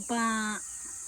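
A single short, strained cluck from a chicken on a Filipino farm at feeding time, fairly close, over a steady high whine of background insects.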